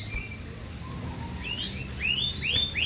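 A caged songbird gives a few thin, high chirps, then a quickening run of rising whistled notes toward the end, fairly close against a low background rumble.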